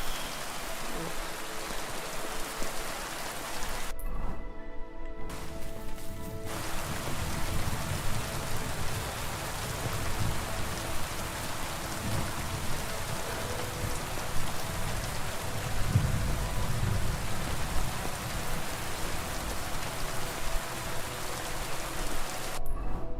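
Steady rain falls in the video game Kingdom Come: Deliverance 2, a constant dense patter that runs throughout, with a brief dip partway through.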